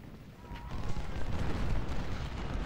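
Dense, rumbling barrage of booms and blasts from cannon artillery in Ultimate General: Civil War at the Battle of Gettysburg, continuous and fairly loud, with no voices over it.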